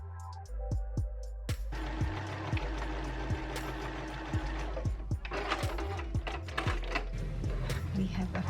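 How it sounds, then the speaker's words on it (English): Sewing machine stitching the shoulder seams of a dress with a backstitch, a close mechanical rattle running in short bursts with brief pauses and thumps. "I am going to join the shoulder seams, and be sure to backstitch so it doesn't unravel."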